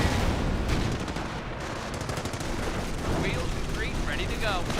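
Artillery barrage in Company of Heroes, a steady rumbling wash of distant shell impacts and booms throughout, with a voice commentating over the latter half.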